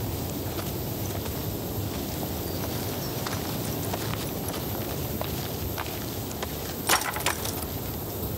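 Horses walking on a hard surface, their hooves clip-clopping in a steady, soft rhythm beneath a constant rushing outdoor background noise, with a couple of sharper knocks near the end.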